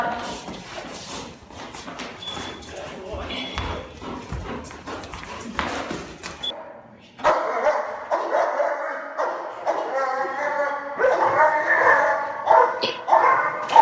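Dogs bark down a hallway in rapid, repeated bursts, loud and echoing, with a person talking over the first half.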